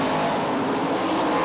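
Sprint cars race on the dirt oval at Hartford Speedway Park, a loud, dense engine roar filling the track as the cars pass by close together.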